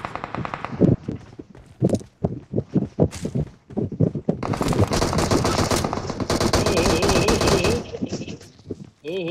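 Gunfire in a shooter video game: scattered single shots give way to long, dense bursts of rapid automatic fire, loud and close, with a voice speaking in between.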